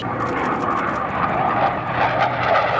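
A military aircraft engine roars steadily and loudly throughout, a continuous close drone with no speech over it.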